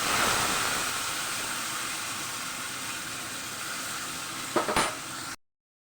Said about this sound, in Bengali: এবার আমি ডালটা দিয়ে দেবো